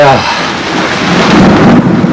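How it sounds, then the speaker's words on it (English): Loud rolling thunder rumbles over the steady hiss of heavy rain, close and enveloping. "Listen to that thunder"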